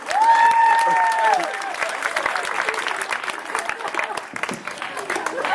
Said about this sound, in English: You're free to go to thunderous applause.